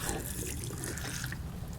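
Water poured from a can onto soil in a cabbage pot, a soft continuous splashing and trickling, fairly quiet and close, without talk.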